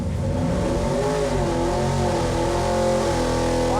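A high-revving 347 cubic-inch V8 built for a sleeper Granada screams on an engine dyno, climbing through a sustained wide-open-throttle pull toward 7,500 rpm, loud, continuous and close with rising harmonic pitch.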